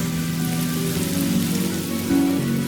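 Steady rain falls in the video game Honkai Star Rail, a continuous dense hiss of drops on surfaces running at an even level throughout, with no voices.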